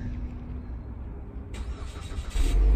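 A 2019 Chevrolet Malibu with the 2.0 turbo engine starts by remote start on an icy day. A quiet hum comes first, then the starter cranks and the engine catches, rising into a loud, close idle.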